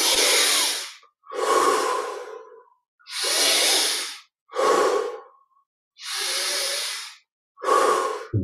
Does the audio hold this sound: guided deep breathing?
yes